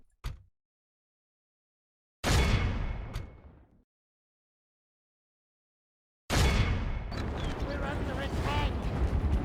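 A ballista in the video game Divide and Conquer fires in two loud, heavy bursts, one short and one longer, which blend into sustained battle noise and a low rumble. A brief click comes before them.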